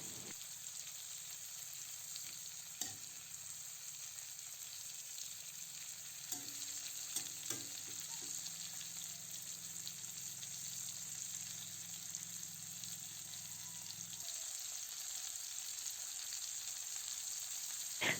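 Chicken breast pieces fry steadily in a pan, a continuous soft sizzle with a few scraping turns and clinks near the middle as the meat is flipped.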